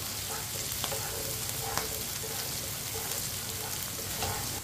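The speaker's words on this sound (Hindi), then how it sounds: "भिंडी को मैंने 5-6 मिनट के लिए पका लिया है, फ्राई कर लिया है।" Okra and finely chopped green chillies fry in a pan for an anda bhindi dish, giving a steady, even sizzle with a few faint stirring clicks throughout, no voices.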